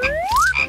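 Frog croak in a mobile game, a single short rising chirp-like call, clean and loud, alone with no talk.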